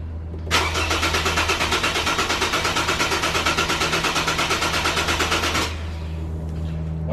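A BMW car engine cranks with a rapid, steady chugging for about five seconds, then catches and settles into a low idle.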